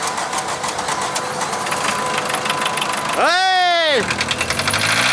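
A car engine running on used deep fryer oil revs and runs on in a steady, throbbing drone, close and fairly loud, while a voice shouts briefly over it.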